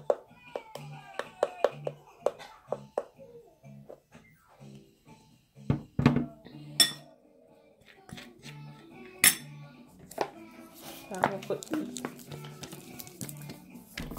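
A spoon clinks and taps against a container while ingredients for a skincare mixture are added, giving a series of light clicks and clatters amid handling noise, with talking throughout.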